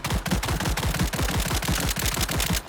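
A Glock pistol in a video game firing range fires rapidly, a quick, evenly spaced string of sharp shots at roughly eight per second, loud and close, with nothing else heard.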